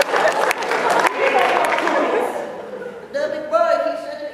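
A crowd applauds with scattered claps and chatter, then a voice speaks over fading crowd noise near the end.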